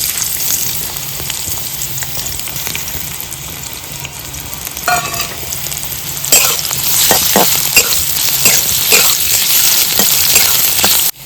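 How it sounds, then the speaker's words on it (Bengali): Sliced onions sizzle steadily in hot oil in a kadai for a chicken dish, a loud continuous frying hiss joined midway by clattering stirring strokes that grow busier toward the end. "তেলের মধ্যে পেঁয়াজগুলো দিয়ে দিচ্ছি।"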